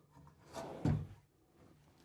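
An RV pantry pull-out drawer in a 2023 Newmar Super Star 4059 coach is pushed to unlatch it, giving a single close knock-and-slide with a sharp thump midway, alone in a quiet interior.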